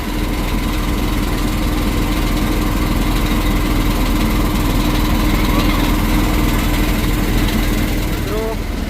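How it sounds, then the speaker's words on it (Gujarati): A Cleantech river-cleaning machine's engine runs steadily at a river ghat, a loud continuous motor drone with mechanical vibration throughout, no pauses. "આ છે મશીન નદી સાફ કરવા માટેનું ક્લીનટેક કંપનીનું"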